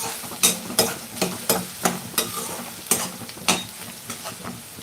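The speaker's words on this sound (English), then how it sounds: "Once the onions are pink, we'll add the hara chana." Green chickpeas are tossed into frying onions in a pan and stirred, producing close scraping strokes in a steady rhythm, about ten over a few seconds, over a continuous oily sizzle, with no voices.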